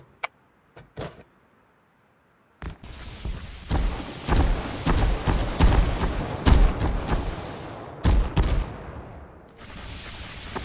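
In the game Rust, a base turret fires sharp shots, first a few isolated cracks, then after a short silence a loud, rapid sustained barrage with crackling bursts, with a faint insect-like hum behind.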